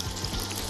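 Chicken pieces frying in a hot pan at a dacha, a dense, even sizzle and crackle that holds steady and close throughout, with no talking.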